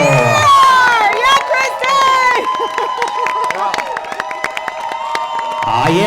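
At a wedding reception, guests applaud and cheer for the groom's parents, loud crowd clapping with whoops and shouts running throughout while a voice talks over the top and music plays underneath.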